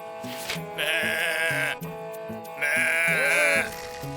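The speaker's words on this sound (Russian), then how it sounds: "Взял Апенди козу за поводок и повел на базар." A goat bleats twice in long, wavering cries, close and loud, over a steady background of plucked, rhythmic music.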